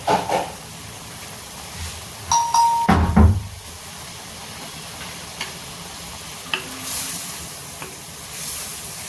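Masala spices cook in oil in a pan for a sem and potato sabji, a soft steady sizzle under loud clanks and scrapes of a spoon stirring against the metal pan, with a few sharp taps.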